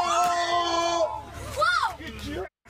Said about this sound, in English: Students on the video can be heard crying and screaming at the driver to stop.